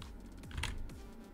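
A brief burst of keystrokes on a computer keyboard, a few quick close taps clicking alone over a steady low hum.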